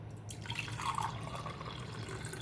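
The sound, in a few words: juice dripping through a strainer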